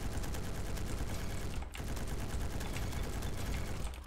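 Steady, continuous LMG machine-gun fire in a shooter video game, a dense unbroken rattle of rapid shots with one short gap partway through.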